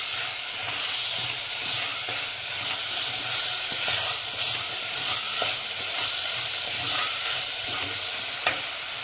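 Green peas sautéing in a hot pan over a raised flame sizzle loudly and steadily, with scraping stirring strokes and small clinks throughout and no voices.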